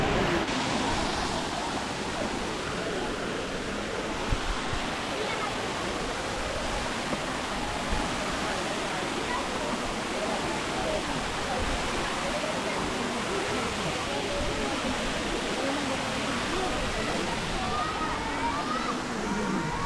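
Daranak Falls in Tanay, Rizal, pours as a continuous broadband rush of falling water, a steady, moderately loud roar that never lets up across the whole stretch.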